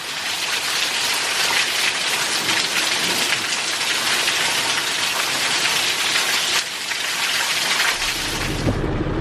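Heavy rain pours steadily and loudly during an Easter 2020 storm in Columbus, Mississippi, a dense roaring hiss driven by gusting wind, with a deep rumble rising near the end.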